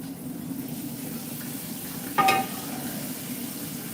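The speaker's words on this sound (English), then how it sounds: "I'm gonna just use that to saute" Food sizzling and being stirred in an oven pan while sautéing for seafood po'boys, a steady low frying hiss with one brief clatter of pan or utensil near the middle.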